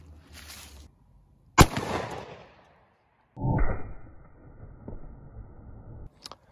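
A 10mm XDM pistol with a 4.5 inch barrel fires 155 grain Gold Dot rounds outdoors. A sharp crack trails off in a decaying echo, and a second loud burst follows a couple of seconds later.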